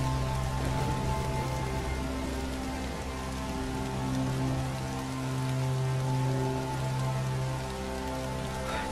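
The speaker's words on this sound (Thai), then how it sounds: "ฝนตกหนักขนาดนี้ยังจะมาหอยฮะ" Heavy rain falling steadily, a dense, loud, unbroken wash of drops hitting surfaces with no pauses, steady for the whole stretch.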